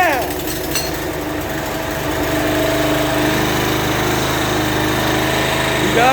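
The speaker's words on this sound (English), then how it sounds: "Alright, so the mower did start up again." A Murray ride-on lawn mower engine runs steadily and fairly loud with a droning buzz, settling into a stronger, even idle after the first couple of seconds while someone speaks briefly over it.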